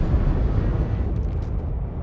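Video game cannon fire with a heavy explosion: a dense, loud, rumbling blast that fills the whole clip, with no talk.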